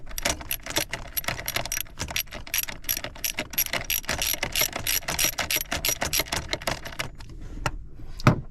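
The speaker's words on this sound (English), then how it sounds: "We'll take a socket and wrench, go to that 10mm bolt" A socket wrench ratchets rapidly on a 10mm bolt at a Chevy EVAP purge valve, a dense run of close, sharp clicking bursts that keeps going for several seconds, then slows to a few last clicks.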